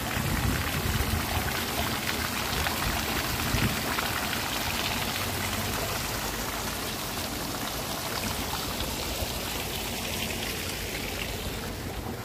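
Forceful flowing water at a strawberry farm, a close, continuous hissing rush like heavy rain on a surface, holding steady and easing slightly toward the end.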